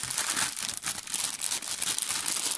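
Plastic bag crinkles and rustles up close in quick, irregular bursts of crackling, fairly soft, with no voices.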